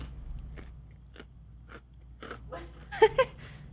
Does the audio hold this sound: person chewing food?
yes